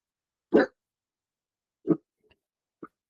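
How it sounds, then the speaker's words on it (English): Dog giving three short, separate woofs at children passing by, close and sharp with quiet gaps between them, the last one softer. "How did I know you were about to bark? Because there's kids going by."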